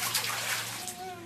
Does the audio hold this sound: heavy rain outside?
no